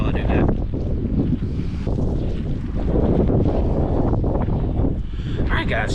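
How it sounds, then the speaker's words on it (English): Wind blowing outdoors on a breezy day buffets the microphone with a loud, continuous low roar and rumble throughout. "this is a little bit of a windy day"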